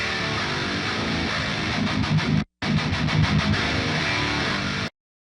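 Dense, heavily distorted death metal rhythm guitars mixed without parallel compression, chugging loudly and continuously with a brief cut near the midpoint before stopping abruptly.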